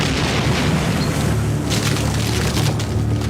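A deep undersea earthquake boom from the clash of the Pacific and Eurasian plates, a loud sustained low rumble with rolling bursts of turbulence, steady throughout with no voices.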